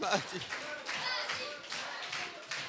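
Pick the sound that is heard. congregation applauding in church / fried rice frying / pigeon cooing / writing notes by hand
congregation applauding in church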